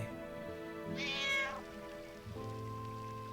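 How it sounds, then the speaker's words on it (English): Cat in the video game Final Fantasy IX gives a single drawn-out meow over soft steady music tones, faint and clear with no talking. "That is a cat."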